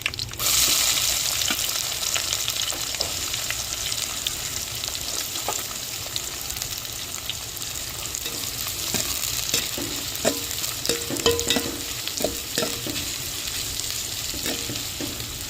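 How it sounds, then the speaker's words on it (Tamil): Sliced big onions stirred into hot oil with curry leaves and dried red chillies in a pan, a steady close sizzle and crackle with the scrape of stirring throughout. "வெட்டி வச்ச பெரிய வெங்காயத்தையும் சேர்த்துக்கிறோம்"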